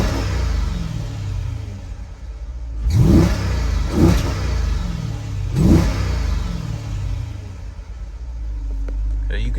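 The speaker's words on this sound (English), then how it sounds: "Throw it in track mode. Get a couple revs in." A Jeep SRT engine in track mode revs three times in quick succession, each rise and fall roaring close by over a steady idle rumble, with some talk mixed in.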